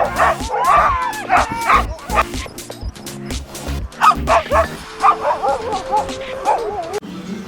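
A team of sled dogs, some of them old, barks, yips and whimpers excitedly at close range without pause. A few sharp yelps and whines overlap throughout.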